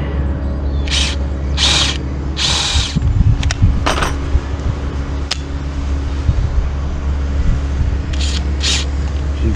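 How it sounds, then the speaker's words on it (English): A power drill bores through a wooden plank for polytunnel foundation tubes, with several short bursts of whirring drilling over a steady low background hum, a few sharp clicks between bursts and no speech. "Got to drill these really accurately"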